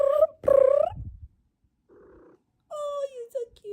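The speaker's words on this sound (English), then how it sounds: "Make a noise, baby kitty." A pet cat's short tonal mews and chirps, close and fairly loud, in three separate bursts with a faint low murmur between them and near-silence in the gaps.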